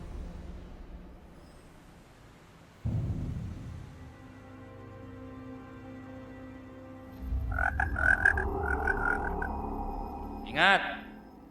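A magical frog croaks in a supernatural drama. A sudden thump comes after a quiet stretch, then a run of throaty croaks and a final warbling call sound close and loud, mixed with ambient scoring.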